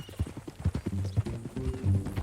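Horse hooves clip-clop at a steady walking rhythm in the Western game Red Dead Redemption 2, close and clear, with a few low snorts or tack sounds mixed in.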